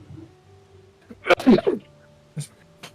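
A single loud close sneeze bursts out mid-clip amid faint background sounds, followed by a softer noise.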